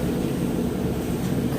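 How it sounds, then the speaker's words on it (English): A repaired clothes dryer with a new heating element runs steadily, its drum tumbling with a continuous low rumbling hum and no voices. "The dryer is now working. The drum is tumbling."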